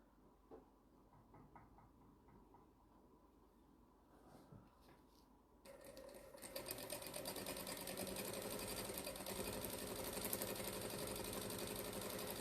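Sewing machine piecing jelly roll strips for a tote bag: faint handling and light clicks at first, then the motor starts and runs steadily and fairly close for several seconds.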